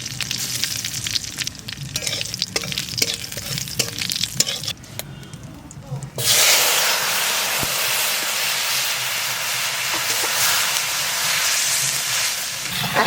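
Dry chillies and cumin hit hot mustard oil in a village kitchen, first a stirring, clattering sizzle, then a loud sustained frying hiss that fills the space from about halfway through.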